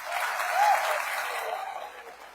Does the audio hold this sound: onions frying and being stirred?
no